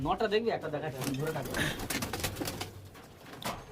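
Pigeons coo in a loft of Rampuri and Kaldum pigeons, soft throaty calls running throughout beneath steady nearby talk.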